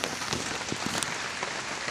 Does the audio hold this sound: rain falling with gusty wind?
yes